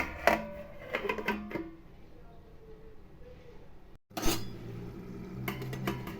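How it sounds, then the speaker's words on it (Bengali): A metal lid is set on a cooking pot of vegetarian banana-stem curry, with a few clattering clinks at the start, a quieter stretch, then a louder clanking burst as it settles, kitchen clatter continuing after. "এবার আমি ঢেকে দেব"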